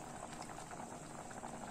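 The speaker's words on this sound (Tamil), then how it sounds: "பாருங்க நல்லா கொதிச்சிட்டு இருக்கு." Karupatti (palm jaggery) milk boils steadily in a pot, a continuous close bubbling and simmering with small irregular pops, no voices.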